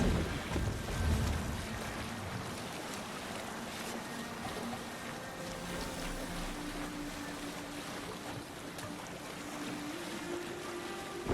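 A sailing ship moves across the sea in Assassin's Creed Valhalla, heard as a steady broad wash of waves and wind with a low rumble of the hull, even and fairly quiet throughout with no speech.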